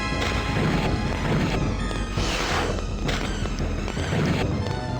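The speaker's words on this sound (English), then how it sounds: "A lot of fire explosions." Fire explosions in the 1994 game Ultima 8, a dense, continuous run of loud crashing blasts and whooshing bursts rolling one after another for several seconds with no pause.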